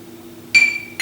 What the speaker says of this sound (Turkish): Ve şimdi bu şişeyi alıyoruz